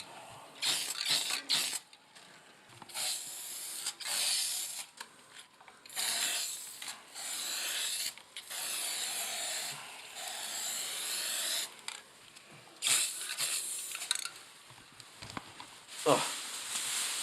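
Repeated hissing bursts of a paint sprayer painting a bathroom, some short and some sustained for several seconds, loud and close, with brief pauses between passes.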